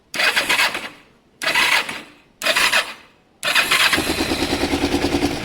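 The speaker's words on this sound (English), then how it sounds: "Let's see if the burn turns the engine at all." A Kawasaki ER-5 motorcycle's starter motor cranks in three short whirring bursts separated by pauses, then a fourth longer crank settles into a rapid, even chugging rhythm, all close and loud.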